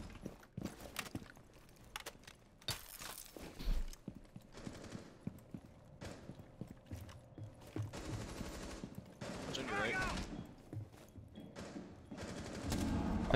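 Rapid bursts of video game gunfire, including machine-gun fire, crackle in irregular volleys across the clip, loud and close, with brief quiet gaps between them.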